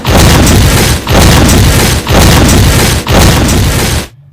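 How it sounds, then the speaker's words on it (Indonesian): Grenade blasts in an action film: four loud, heavy booms in a row, each roughly a second long with a short gap, filling the whole clip before cutting off. "tiba-tiba satu serangan granat meledak"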